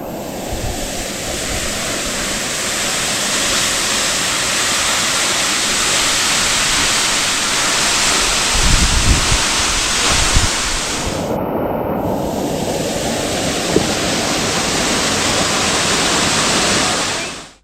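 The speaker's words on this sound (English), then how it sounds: "This waterfall is called Protesters Waterfall" A waterfall in Australia pours with a steady, full rushing roar that stays loud and unbroken throughout, with no voices over it.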